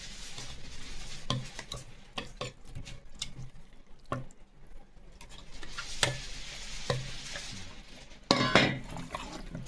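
Chicken pieces being mixed into a mint marinade for tandoori chicken, with irregular wet stirring and clinks of a utensil against a bowl, close and moderately loud, with no voices.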